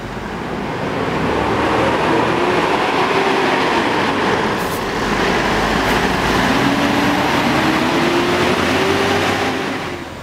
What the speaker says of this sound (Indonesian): Ini ada bus Rapi ya, kayaknya dari Kerincin ya